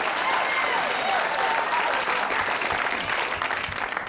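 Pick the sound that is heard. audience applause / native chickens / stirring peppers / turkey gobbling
audience applause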